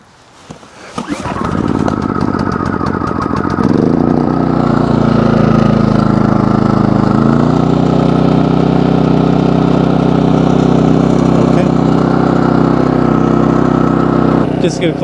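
A PROYAMA 4000 watt portable generator catches after a pull start and settles into a loud, steady engine drone close by, with its pitch shifting slightly as the choke is adjusted.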